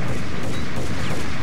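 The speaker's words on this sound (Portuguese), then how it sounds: "Quem que é essa galera aí metendo bala em mim?" Enemies fire on the player in the Max Payne PC game, a dense, continuous burst of loud gunfire and crashing noise with no clear gaps between shots.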